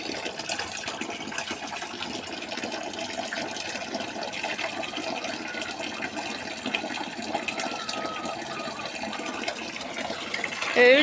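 Water gushes steadily into containers being filled for poultry in a backyard garden, a continuous close rushing pour that swells slightly at the end.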